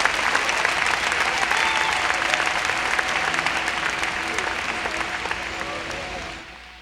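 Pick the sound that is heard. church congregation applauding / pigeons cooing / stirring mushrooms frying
church congregation applauding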